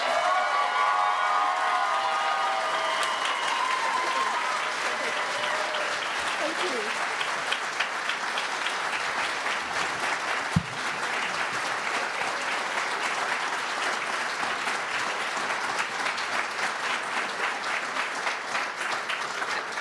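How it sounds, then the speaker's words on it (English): Awards ceremony audience giving a long round of applause for an award recipient, dense sustained clapping with some cheering and crowd voices throughout, steady and fairly near for about twenty seconds. "give her an extra huge round of applause"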